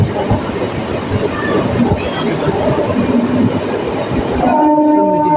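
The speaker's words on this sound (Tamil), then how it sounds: "பேசிட்டு இருக்கும்போது அங்கே வந்துச்சு வண்டி." A MEMU passenger train on the Jolarpettai–Katpadi line pulls into a station platform with a loud, close rumble and wheel clatter, and tonal horn-like notes sound near the end.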